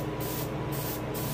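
An airbrush sprays paint with a loud, continuous hiss at raised air pressure while a largemouth bass taxidermy mount is painted, with slight pulses in the spray.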